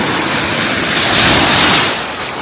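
Waves wash onto a Lake Michigan beach on a summer day as a loud, close, steady broadband rush that swells briefly in the middle, with no voices.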